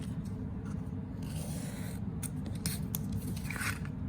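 An X-Acto knife cuts through collagraph plate material along a ruler, a steady close scratchy scraping with a few sharper slicing strokes, alone without talk.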